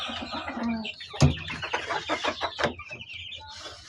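A four-month-old Ruby Gold sweater hatch gamefowl clucks in a backyard, a quick series of close, choppy calls with one sharp louder note partway through.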